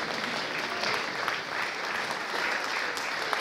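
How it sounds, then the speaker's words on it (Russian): Fans in a concert audience give warm, sustained applause for a young girl performer at a children's song show, a full, even roar of clapping throughout. "цветы и аплодисменты от поклонников"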